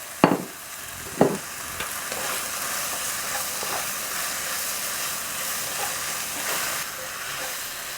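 Spicy fish cakes with chives are stir-fried in a pan: two sharp clanks of a utensil open, then a steady sizzle and hiss continues with light stirring scrapes.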